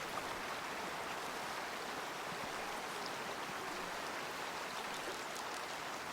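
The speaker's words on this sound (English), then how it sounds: "it sounds like the river's actually still decently loud" A river in a video game rushes loudly and steadily near a swamp, a dense, even wash of flowing water that continues without break.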